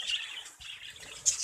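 Pet birds kept indoors chirp and tweet in short, faint, scattered calls, with a brighter burst of chirps near the end.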